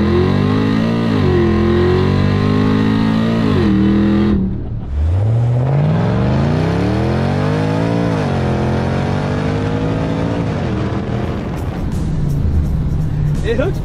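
A supercharged V8 in a Subaru Forester roaring loudly as it accelerates hard on the street, engine pitch climbing through gears with a shift break, close and dominant, with people talking faintly underneath.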